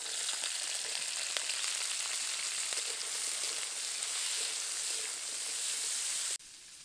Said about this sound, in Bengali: তেল গরম হয়ে গেছে, এবার এই চিতি কাঁকড়াগুলো দিয়ে দেব।